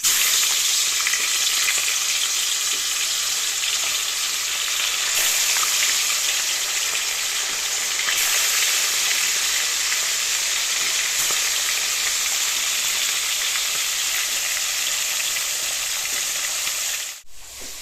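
Folui fish frying in oil in a pan, a steady close sizzle with fine crackling that runs unbroken and alone, fading slightly at the very end.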